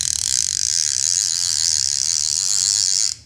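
A Daido Predator XL low-profile fishing reel's alarm clicks during the retrieve, producing a fast, loud, continuous ratcheting buzz up close that stops abruptly near the end.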